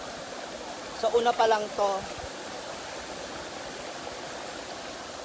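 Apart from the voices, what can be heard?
waterfall at a forest falls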